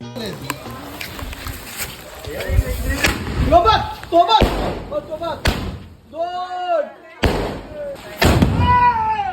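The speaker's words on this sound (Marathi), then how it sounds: "मग गप आम्ही आरती केली आणि डायरेक्ट गेलो फटाके फोडायला" Diwali firecrackers bursting outdoors after rain, a series of loud sharp bangs and crackles at irregular intervals, some close and punchy, with people's voices and shouts heard between the blasts.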